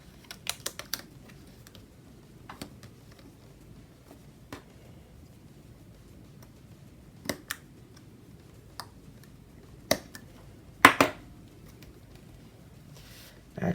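Scissors cut paper banners in sparse, faint snips, with a short cluster of closer cuts near the end over a quiet room.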